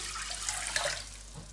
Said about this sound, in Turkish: Yaklaşık 5 su bardağı soğuk suyumuzu ilave edelim.